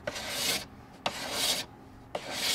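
Three rhythmic sanding strokes rasp across rough body filler on a Mercedes SL500 widebody kit, each starting with a sharp scrape, close and fairly loud.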